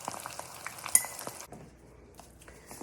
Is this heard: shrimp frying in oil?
yes